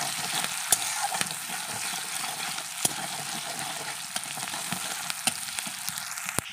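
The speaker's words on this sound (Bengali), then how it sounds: "পেঁয়াজটাকে একটু লাল লাল করে ভেজে নেব।" Chopped onion frying in a pan for a dhaba-style egg curry, giving a steady bright sizzle with scattered crackles and pops, close and alone.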